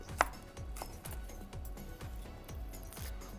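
A knife thinly slicing garlic taps steadily on a cutting board, a quick even rhythm of soft chopping strokes, close but quiet.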